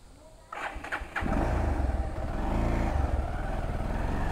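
A motorcycle engine, just topped up after running low on engine oil, cranks over and catches about a second in, then settles into a loud, steady, close-up idle.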